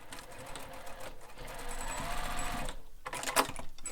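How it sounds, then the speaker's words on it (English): A sewing machine basting stitches across the short edge of a fabric strap anchor for a bowler bag, running as a steady rapid whir that stops briefly before a short final burst. "You're going to baste across the short edge of your short strap anchor."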